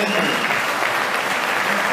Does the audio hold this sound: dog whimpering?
no